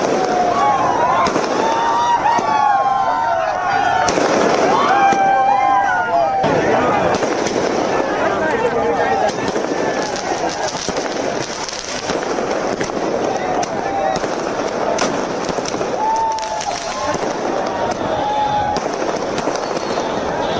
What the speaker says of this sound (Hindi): छात्रों ने आतिशबाजी की है